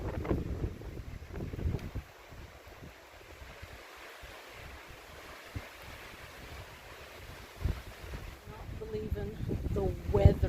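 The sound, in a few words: strong wind blowing on a mountain hike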